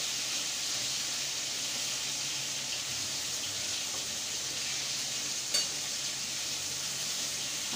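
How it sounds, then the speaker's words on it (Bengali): Pieces of potato, aubergine and cauliflower fry in hot oil, giving a steady, dense hiss that continues evenly with a single small clink partway through and no voices. "আলু বেগুন ফুলকপিগুলো একটু ভেজে নিচ্ছি"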